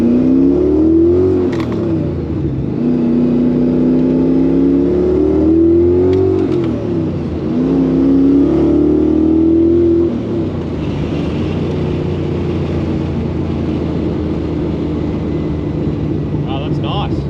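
A car fitted with a 355 stroker engine cruises on a test drive, its engine note rising and falling with gear changes before settling into a steady drone, while a person talks over it.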